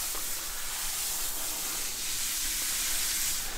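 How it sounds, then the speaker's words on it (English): A steady, close hiss of fine water spray misting a tegu's enclosure, continuous and even throughout with no pauses or voices. "And just kind of misting his enclosure down for the day"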